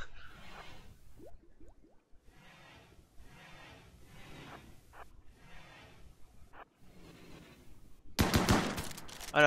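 Gunfire in the video game RimWorld: a loud burst of rapid shots near the end, after a stretch of quiet, soft in-game sounds.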